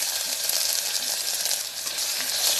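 Onions sizzle loudly in hot oil with ginger-garlic paste and cashews, a dense, continuous crackling hiss close by with faint stirring underneath and no talking.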